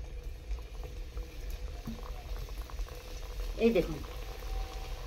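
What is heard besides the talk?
semolina jalebi frying in hot oil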